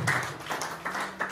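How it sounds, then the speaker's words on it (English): Congregation at a church service in Gambia breaks into a short round of applause, moderately loud, with bursts of clapping swelling and easing over about a second with a low hum underneath. "Let's give a round of applause to Peter."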